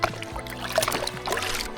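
Gold-pan material is tipped back into a creek, giving a watery splash and trickle over the running stream nearby, with soft, uneven sloshes throughout.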